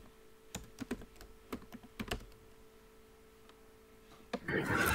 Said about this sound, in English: So you can use this technique of play, type,